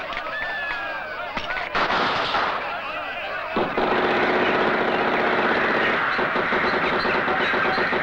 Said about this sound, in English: Shoot holes in the tank, Doublet.